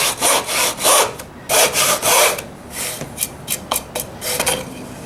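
A Japanese kote nomi trowel chisel cutting a rough dado in wood, close and loud, giving repeated scraping, rasping strokes in bursts, longer at first and then shorter and choppier.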